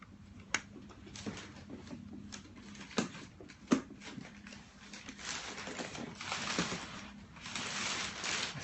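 Cardboard box and loose packing paper shifted around while a camera is unboxed, making scattered rustles, taps and crinkling bursts that grow busier toward the end.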